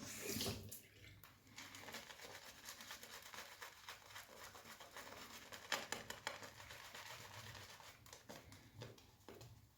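Tap water runs steadily during a traditional wet shave with a boar-bristle brush, a broad continuous splashing flow that holds for nearly ten seconds with a few louder spatters midway and no voices.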